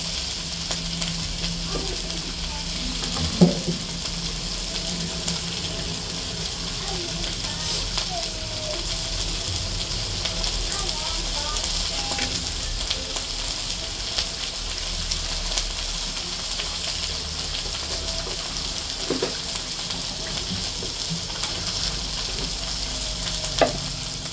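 Broth poured into a hot pan, set against a steady low sizzle of frying that runs throughout, with occasional stirring clinks and a voice speaking briefly in the background.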